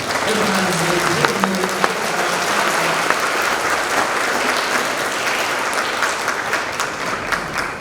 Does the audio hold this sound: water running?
no